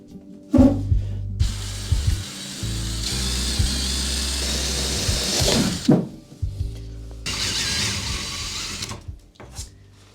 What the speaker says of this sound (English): I am drilling a hole for this wire to come through